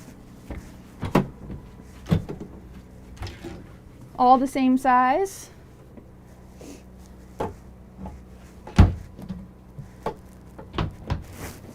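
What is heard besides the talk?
drawers opening and closing in a Jayco Greyhawk RV bedroom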